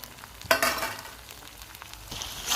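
Ground spices and chopped tomato frying in a pan, a soft close sizzle with two louder bursts of hiss as the mixture is stirred.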